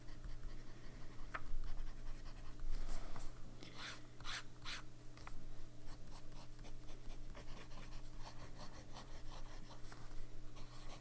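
A fountain pen with a medium nib writes shimmering ink across paper in quiet, close strokes, with soft scratchy bursts clustered in the middle and faint room hum underneath.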